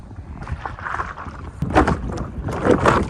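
Water noise from an EcoFlow lithium-powered electric outboard motor pushing a paddle board, a soft churning swish that swells in two pulses over steady wind and splashing.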